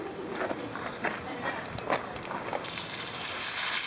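A garden hose sprays water onto a blue claw crab being cleaned, washing out the entrails and gills; a steady hiss of spray rises after a few seconds of splashing and handling noises.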